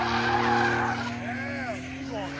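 Corvette tires squealing and skidding through donuts at a Minnesota car meet, a close, sustained screech with wavering pitch over a rumbling engine, while people talk nearby.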